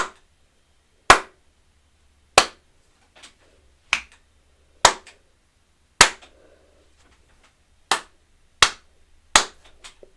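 Single sharp hand claps in an untreated room, about nine separate claps spaced roughly a second apart, each a crisp near crack followed by a short ring of room reverberation, with quiet between them and no talking.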